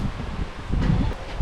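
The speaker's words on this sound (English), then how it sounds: "I feel like the wind is killing the vibe a little bit" Wind gusts across a beach microphone in a brief, rough, low-pitched rush that swells and eases, with no voices.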